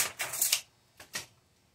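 Cheap 99-cent scissors snip through window tint film for a front door window, several quick close crisp cuts: a burst of clipped snips, then two more separate snips after a pause.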